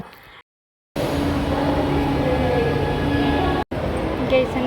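A train at Chennai airport metro station gives a steady, loud broadband rumble that runs almost unbroken for several seconds. It drops out briefly twice, with faint chatter mixed in.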